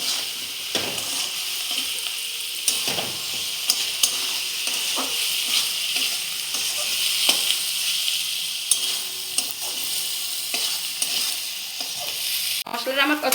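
Spice paste with crushed green chillies stir-fries steadily in a pan for a banana-flower and prawn curry, a continuous sizzle broken by scattered scraping stirs and a louder clatter near the end.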